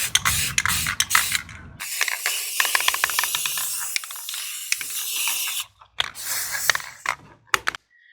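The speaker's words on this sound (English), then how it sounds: "we're going to go ahead and try and spray it" Semi-gloss spray paint hissing from an aerosol can onto a blending brush holder inside a box, outdoors in light wind, in several bursts separated by rattling and clicking of the can and brief pauses.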